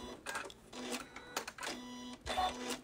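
A sewing machine stitches a Baptist fan quilting pattern with a ruler template, giving a steady mechanical chatter that comes in short repeated runs and brief pauses at close range.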